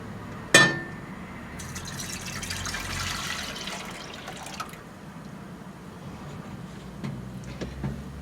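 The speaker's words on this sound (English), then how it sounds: "So I'm going to add that back into the saucepan." A strained cherry plum cordial mixture is poured back into a saucepan, starting with a sharp clink and then a soft liquid pour that trails into faint drips.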